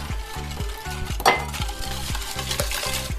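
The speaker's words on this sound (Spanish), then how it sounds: "batimos un pelín" Batter for anise rosquillas is beaten in a bowl with a quick, regular whisking rhythm of light scrapes and clinks, about a dozen strokes in three seconds, close and clear with no talk.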